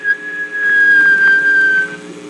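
A single shrill whistle, one sustained high tone lasting about two seconds, stands out clearly over a low background hum.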